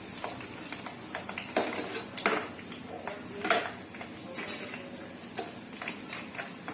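Sweet bonda dumplings bubble gently in oil over a slow flame, a soft steady sizzle broken by a few louder scrapes and clinks of a utensil against the pan, with no voices.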